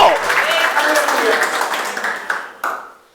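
Church congregation at a Christian worship service applauding, steady dense clapping fading toward the end, heard alongside voices.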